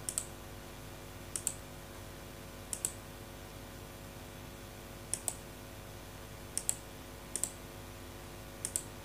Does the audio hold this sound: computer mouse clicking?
yes